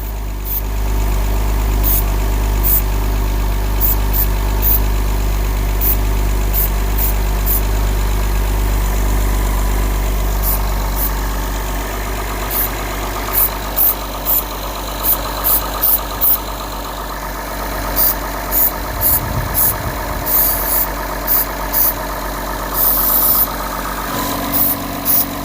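Acura TL engine idling steadily at close range with a deep low rumble, while brake cleaner is sprayed around the intake during a coolant line job; faint ticking taps come through in the second half.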